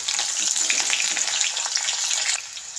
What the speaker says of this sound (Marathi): हा कांदा छान फ्राई झालेला आहे